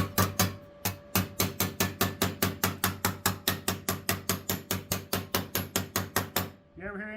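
Hammer and dolly striking a thin sheet metal weld bead, a fast even run of about thirty sharp metallic taps close by, stopping near the end.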